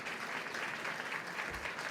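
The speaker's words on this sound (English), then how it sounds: "applauded through the hall of Downing Street" Staff applauding the new Prime Minister and his wife through the hall of Downing Street, a dense, steady patter of many hands clapping indoors.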